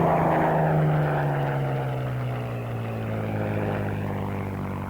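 A Supermarine Spitfire with a Merlin engine drones past in flight, a loud sustained propeller roar whose pitch slowly falls as it moves away.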